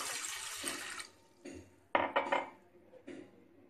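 Three cups of water poured into a metal cooking pot for pulao: a splashing pour with clanks of utensils and dishes, followed by a few separate metallic knocks and clinks in a quiet home kitchen.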